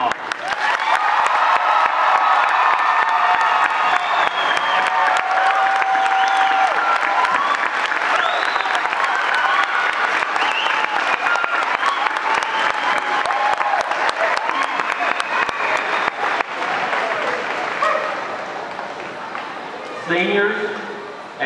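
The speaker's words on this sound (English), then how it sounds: "Let's give them one more huge round of applause." A large graduation crowd gives the class of 2013 a long, loud ovation, dense clapping with cheers and whoops mixed in and voices throughout, then fading near the end.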